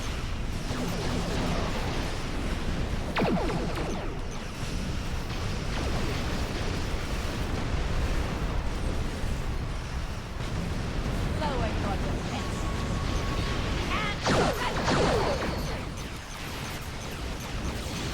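Weapon fire and explosions ring out in a Star Trek Online space battle, with bursts and booms layered over a dense, continuous roar of game sound effects, while a voice talks at times.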